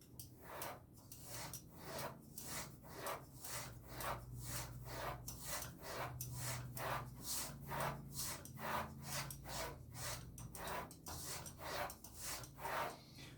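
A straight razor is stropped on a leather strop in a rhythmic series of about two dozen close, even scraping strokes, alone with no talk.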